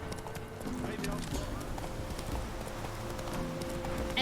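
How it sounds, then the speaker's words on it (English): A running horse in The Witcher 3 gives quick, rhythmic hoofbeats that carry on without a break throughout, quiet and steady beneath a man's speech. "The horse run wherever he wants."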